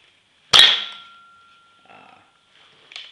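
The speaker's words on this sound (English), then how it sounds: "You load it with a dart, cock back the primer, and fire it." A 1911-style foam dart gun fires once with a sharp snap and a short ringing tail, followed a moment later by a few faint, brief handling clicks.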